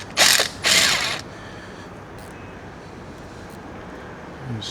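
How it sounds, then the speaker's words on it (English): A trim indicator sender is screwed back into the housing of a Mercury Verado outboard, giving two short, close ratcheting, threading bursts at the start before quiet room noise. "Run my trim indicator back in."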